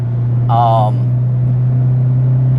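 A Honda Civic EP3 driving, its engine producing a steady, loud low drone throughout, with a person speaking briefly over it.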